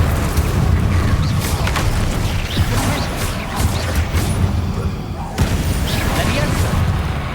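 Confringo and Incendio spell blasts in Hogwarts Legacy combat produce heavy booming bursts and crashing impacts over a continuous rumbling din, while a voice talks throughout.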